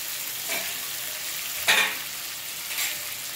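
Hot water is poured into a pan of potatoes and spice paste fried in oil for soybean dalna, a steady sizzle building to a sharp, loud hiss that swells briefly and then settles back to frying.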